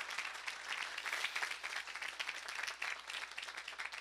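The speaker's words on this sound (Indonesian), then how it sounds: "Berikan tepuk tangan yang meriah buat Tuhan." A church congregation breaks into sustained, dense applause, many hands clapping steadily and loudly for the whole stretch without letup.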